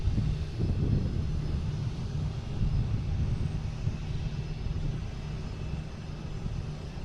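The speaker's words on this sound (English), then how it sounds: "we got a Cape Air taking off here in front of us. Or landing, I'm not sure." Cape Air plane landing on runway 4 left at Boston Logan after arriving from Bar Harbor, a sustained low engine rumble that is loudest at the start and slowly eases, heard from nearby outdoors without talk.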